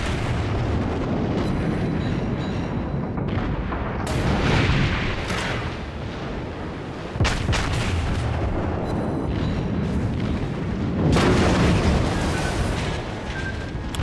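Heavy naval gunfire and explosions in the World of Warships video game, repeated loud booming blasts and rumbling impacts spread across a dense, continuous battle din, no talking.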